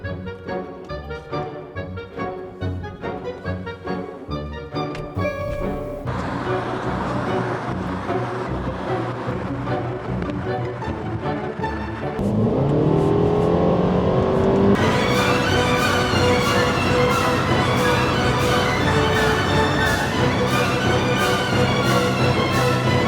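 A Mercedes C300 on a test drive, its engine note building steadily as the car pulls away and accelerates, loud and close, with no talking over it.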